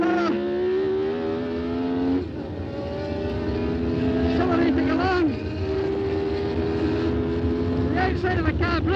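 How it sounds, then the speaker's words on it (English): A high-revving Formula 1 car engine drones loudly, pitch climbing steadily then dropping sharply at gear shifts from fourth to third, with someone speaking over it. "Accelerating along at fourth gear, dropping into third gear."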